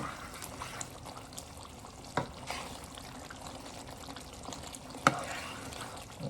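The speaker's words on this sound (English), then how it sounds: "you caught us in the middle of cooking gizzard stew" Gizzard stew fries in a pot with a faint, steady sizzle, broken by occasional soft clinks and stirring knocks.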